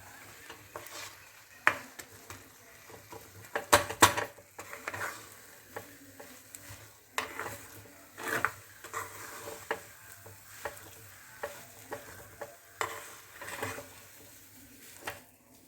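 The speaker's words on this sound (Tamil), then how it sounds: "இப்போ இந்த கேழ்வரகு மாவை இதில் போட்டு நல்லா கலக்கணும்" Ragi flour mixture is stirred in a pan over a low flame, producing irregular scraping and thumping strokes with soft bubbling patter between them, close and moderately loud, with no voices.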